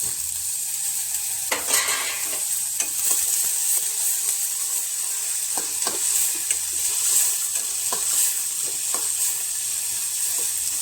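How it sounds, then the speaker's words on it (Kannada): Onion and peas fry in a pan for samosa filling, a steady close sizzle with occasional stirring scrapes of a spoon against the pan; no talking. "ಸ್ವಲ್ಪ ಚೆನ್ನಾಗಿ ಫ್ರೈ ಆಗಲಿ"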